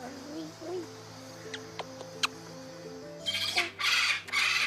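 Harsh, loud squawks from a sulphur-crested cockatoo burst out near the end, preceded by quieter chirpy bird sounds over a low hum.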